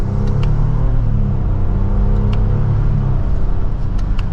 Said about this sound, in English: Twin turbo V6 has a good exhaust note to it